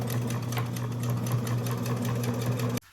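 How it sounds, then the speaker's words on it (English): A sewing machine with a zipper foot stitches fabric for a waterproof wet bag, running steadily at high speed, its rapid mechanical stitching hum continuous, then stopping abruptly at the end. "we need to take it back to the sewing machine, and once again with the zipper foot, sew down this side"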